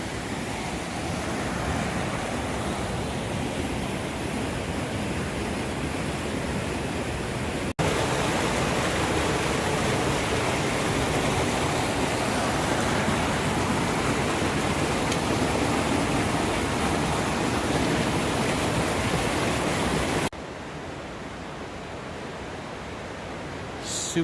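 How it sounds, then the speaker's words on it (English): River water rushes steadily at a Grand Canyon river crossing, a broad continuous roar that gets louder midway and drops away abruptly near the end. "River crossing after river crossing after river crossing."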